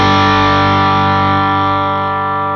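A sustained distorted electric guitar chord rings out through an amp as the gain is turned down, its gritty edge easing slightly as it slowly decays.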